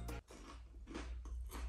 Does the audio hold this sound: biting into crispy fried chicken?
yes